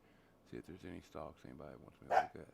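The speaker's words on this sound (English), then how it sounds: "Sorry about the dog." A dog barks a few short yips in a home during a stock-market livestream, quick bursts close by mixed in with someone talking over them.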